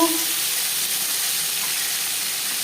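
Panch phoron spices fry in hot oil for a potato and paneer curry, giving a loud, steady close sizzle and hiss that holds evenly throughout, with no talking.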